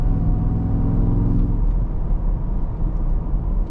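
A 2024 Ford F-150 Raptor R accelerates in quiet exhaust mode with a steady, muted low rumble from its supercharged engine that eases slightly partway through.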